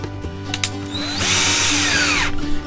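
A power drill drives screws into the lid of a cabinet inside an Airstream travel trailer, with short trigger bursts and then one sustained whirring run that rises in pitch and winds down, heard close with no talking.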